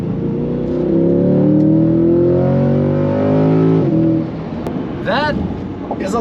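C8 Corvette engine accelerating, a loud rising multi-toned roar climbing for several seconds before cutting back, followed by brief quieter revs and a sharp upward sweep heard from inside the car.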